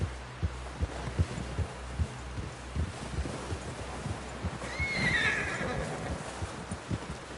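A horse whinnies in the middle of Red Dead Redemption, a bright rising-falling cry over steady low thumping hoofbeats and a busy game background.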